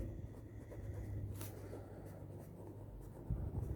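Writing on a board during a physics lesson, soft scratchy strokes heard faintly over a low background hum, with a short sharp tap partway through.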